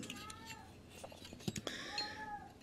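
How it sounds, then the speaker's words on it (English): A cat howls indoors in faint, drawn-out wavering yowls, several in a row, with quiet clicks and handling noises around them. "the cat's doing his howling again"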